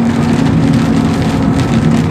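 Heavy rain pours down on a truck driving a Brazilian highway, a steady loud hiss of drops on the cab mixed with the low drone of the engine and road, no talking.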